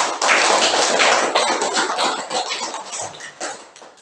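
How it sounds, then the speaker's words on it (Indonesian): A school class clapping hands in unison, a burst of brisk rhythmic applause that starts loud and tapers off over a few seconds. "tepuk tangan dulu untuk semangat kalian"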